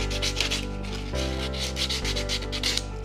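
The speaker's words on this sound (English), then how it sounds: "Actually, I like this sanding block a lot." Steady back-and-forth rasping of a sanding block against wood, close and continuous in quick rhythmic strokes, with no talking.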